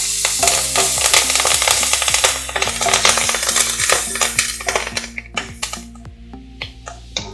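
Curry leaves hitting hot oil for a Tamil prawn salna fill the pan with a loud, steady crackling sizzle studded with sharp spits and pops, which thins into scattered individual crackles toward the end.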